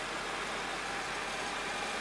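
A 2002 Mercedes-Benz S55 AMG with a 5.5-liter V8 idles smoothly in a dealership setting, a faint, steady low hum under broad, even background hiss.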